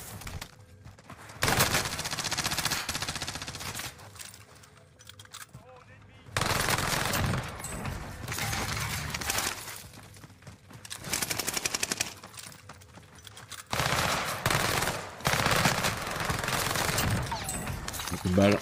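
Heavy gunfire in the Fortnite video game, with long bursts of rapid automatic fire and stretches of dense shooting broken by short lulls. A voice speaks now and then over the shots.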